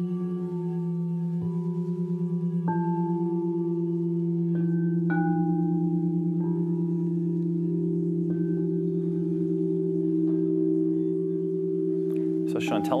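Frosted white sound bowls tuned to the seven main chakras hum in a steady, sustained drone, with soft strikes layering fresh ringing overtones every second or two, close and even, ending with a brief clatter.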